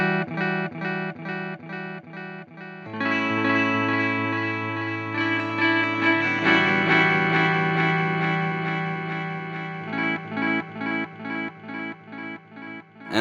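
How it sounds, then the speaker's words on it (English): Electric guitar played through a Boss ME-90 multi-effects unit on its warm delay setting, with repeated picked notes and chords trailing darker, softened echoes that pulse rhythmically and fade between phrases, with no talking. "And with the warm, it's just not as bright on the repeats as it is with the standard delay"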